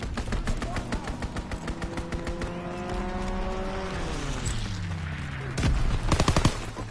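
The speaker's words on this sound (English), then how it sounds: "Call for a strafing run!" Strafing-run gunfire in a World War II video game: rapid machine-gun bursts under a descending engine drone of an aircraft sweeping past, ending in a loud burst of shots, with no talk.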